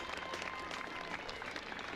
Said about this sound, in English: The crowd giving her a round of applause as she comes off the diamond.